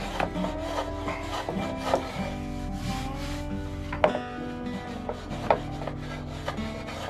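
A block plane shaves a wooden corner with rotating, angled strokes, giving repeated close scraping and rubbing passes with a few sharper ticks, steady and alone.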